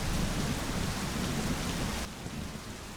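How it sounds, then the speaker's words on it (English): Heavy, steady video game rain from My Summer Car pours down with a low rumbling undertone, easing slightly near the end. "Wait, why is it raining in my house?"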